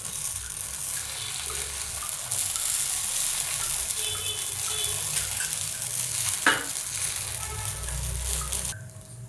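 Sabudana thalipeeth frying in ghee on a pan, a soft, steady sizzle running throughout with a brief scrape near the end.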